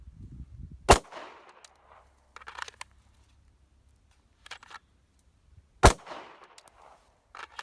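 Two sharp pistol shots ring out several seconds apart during a shooting drill at a college range, each a loud crack with a short echoing tail, separated by faint handling clicks and quiet.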